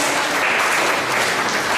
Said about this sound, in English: The Central African Republic community, a round of applause.